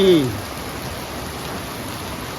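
Heavy rain falls as a steady, dense hiss after a brief louder sound at the start, continuing evenly with no voices.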